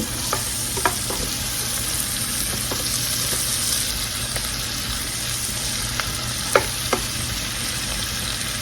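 Flour browning in a pan for smothered pork chops gives a steady sizzle throughout, with a few sharp scrapes and taps of the stirring utensil scattered across it.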